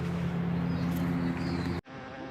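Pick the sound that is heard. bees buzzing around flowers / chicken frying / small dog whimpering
bees buzzing around flowers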